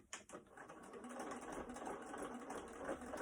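A sewing machine runs steadily, stitching a seam on a fabric face mask, with a close, even mechanical whirr that starts with a few uneven bursts and then holds a constant speed.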